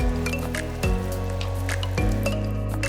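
Shrimp spaghetti being gently stirred with cooked shrimp in a pan, soft wet squishes and light clinks over a low steady hum, two sharper stir sounds standing out.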